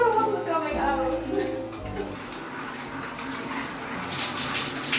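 Water runs steadily from a tap while black hair dye is being rinsed out, a close, continuous splashing gush with some brief shifting splashes.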